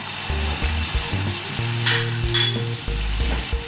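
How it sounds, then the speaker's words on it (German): Steak sizzles in a pan on a gas stove, a steady close hiss of frying fat running throughout with a low hum beneath, no voices over it. "man hört schon, dass es anfängt zu brutzeln"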